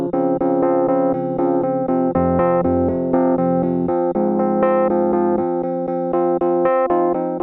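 Synthesized chords playing in a steady sequence, full sustained harmonies with a bass line moving underneath, clean and loud with no voices.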